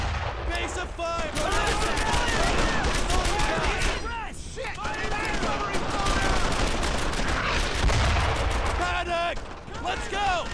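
Dense gunfire in a World War II squad combat game set in a German-occupied French village. Rapid machine-gun bursts and rifle shots crackle continuously, with shouted commands heard under the din.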